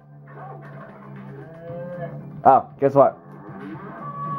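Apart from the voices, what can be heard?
cow mooing in video game Earthworm Jim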